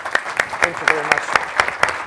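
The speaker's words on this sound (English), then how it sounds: "please join me with an applause to thank the experience" An audience at IHIF Session 16 breaks into applause, a steady run of close, bright claps lasting the whole moment while a speaker offers brief thanks over it.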